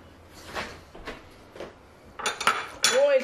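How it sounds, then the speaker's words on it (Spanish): Metal utensils clink and scrape against a cooking pot as sausage goes into a tripe stew, a few soft knocks followed by louder clattering strikes and a ringing scrape near the end. "Y también vamos a agregar lo que es la salchicha."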